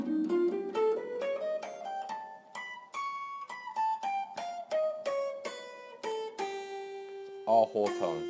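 An electric guitar runs a whole tone scale in a second fretboard position, crisp single notes climbing and descending in an even rhythm, then sustaining a long note with a bent, wavering finish; no voices.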